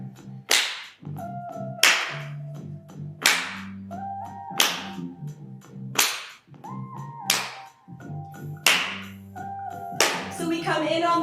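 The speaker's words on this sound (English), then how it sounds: "let's add clapping on the 2 and the 4" Sharp hand claps land on a steady beat, about nine crisp smacks spaced roughly a second apart over a sung or spoken rhythmic backing, as a class keeps time on beats two and four during a rhyming lesson.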